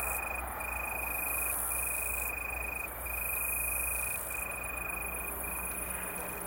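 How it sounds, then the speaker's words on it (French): Saddle-backed bush cricket (Ephippiger) chirping in a grassy field, a steady high-pitched stridulation repeating in short pulses at moderate distance, with a constant insect background and no talking. "Éphipigère carénée, très probablement."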